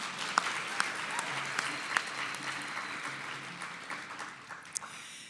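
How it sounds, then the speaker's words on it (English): An audience at the 2022 Saskatchewan Sport Awards keeps applauding in a steady, moderately loud wash of clapping that runs throughout without talk. "Yeah, never too much applause,"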